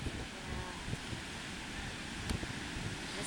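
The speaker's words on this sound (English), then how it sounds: "Has a little wind, but it's nice." Wind blowing across a warm beach in Mazatlan, a soft steady rush with light microphone buffeting and a faint surf-like wash beneath, alone and fairly quiet.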